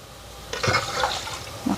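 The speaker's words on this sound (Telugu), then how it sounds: "3 గ్లాసులు నీళ్ళు వేసుకున్నానండి." Water poured into a pressure cooker holding rice, a short close splashing gush that starts abruptly and runs for about a second, with no talking.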